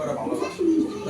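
Racing pigeons at a loft give a short, low, soft cooing call, heard close by over faint background murmur.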